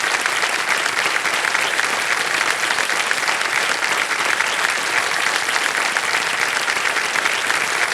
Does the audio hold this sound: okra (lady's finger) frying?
no